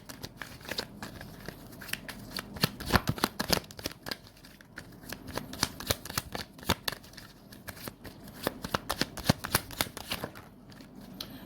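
Tarot cards shuffled by hand up close, a long run of quick crisp riffles and soft flaps in uneven bursts, with no talk.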